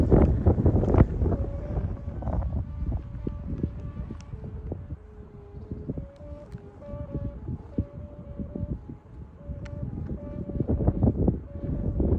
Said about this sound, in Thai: เจอลมแรงมันเอียงครับ